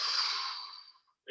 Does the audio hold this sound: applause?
no